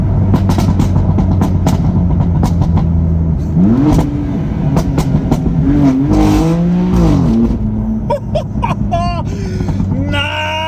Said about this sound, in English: let me just downshift this